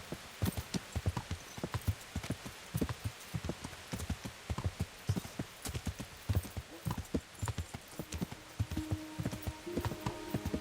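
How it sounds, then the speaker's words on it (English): Steady clip-clopping of horse hooves on a hard surface, close and rhythmic throughout, with a faint whinny and light background noise. "I ride my horse back through town on the horse's back."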